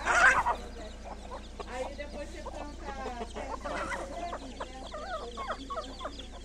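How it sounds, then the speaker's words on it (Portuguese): Farm chicks in Águas Claras, Mato Grosso do Sul, peep in rapid, repeated high chirps after a loud opening burst of calls, fairly close and continuing throughout. "Pintinho com força."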